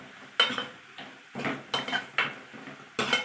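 A spoon scrapes and knocks through browned onions being sautéed in a pan for a Kerala-style kadala curry. There are five or six distinct metallic strokes at an uneven pace, close by, with near-quiet gaps between them.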